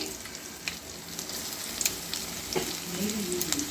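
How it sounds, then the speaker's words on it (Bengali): Chopped garlic and ginger fry in white oil for Bengali masala prawns, giving a steady close sizzle with soft stirring scrapes and small pops throughout. Nobody speaks. "ওর মধ্যে দিয়ে দেবো একে একে এই যে রসুন কুচি, আদা কুচি"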